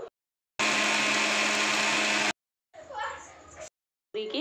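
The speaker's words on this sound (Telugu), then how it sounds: "ఇవన్నీ మిక్సీ పడతాము." A mixer grinder whirs loudly for about two seconds, blending green chillies and other ingredients for pani puri water, followed by shorter, softer bursts with a brief voice.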